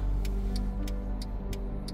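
Steady low engine rumble of cars crawling in a long morning rush-hour traffic jam on a Monday, a continuous dense drone with faint periodic ticking, like an indicator, over it.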